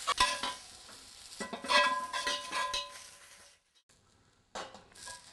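Chives are stirred and sizzle in a hot flat-bottom wok during seasoning, with scraping strokes in bursts, a pause of near silence, then a final bout of stirring.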